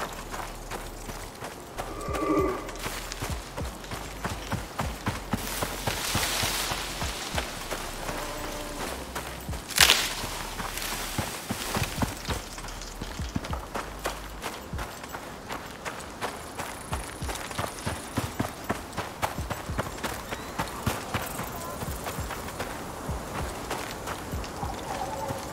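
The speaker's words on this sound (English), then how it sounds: "Horses, always braying and shit." Horses move across ground in the survival game Icarus, their hooves thudding in a steady, quiet running rhythm over faint ambient game sound, with no voice.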